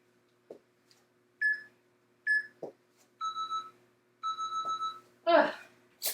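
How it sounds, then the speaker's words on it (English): A fitness timer gives electronic beeps, first single tones, then paired double beeps, clear and close in an otherwise quiet room, ending in a short burst of voice. "Oh, love that double beep."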